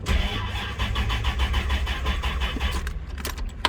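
Engine of a supercharged Corvette revs steadily up close, a dense mechanical drone with rhythmic pulses that lasts throughout, then a few sharper clicks and knocks near the end.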